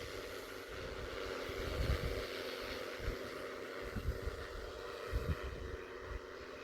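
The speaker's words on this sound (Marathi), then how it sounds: "नॅनो डी ए पी दोन्हीचं मिश्रण करून आपण ड्रोननी तूर फवारणी करीत आहोत" An agricultural drone spraying a pigeon pea crop in an open field, a steady droning whir with some wind buffeting, continuous and at moderate distance.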